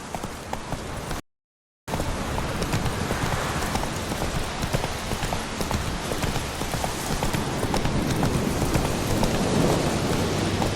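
A horse trots steadily in The Witcher 3, its hooves clip-clopping in an even rhythm over a hissing, rain-like background. The sound cuts out briefly near the start and then carries on unbroken.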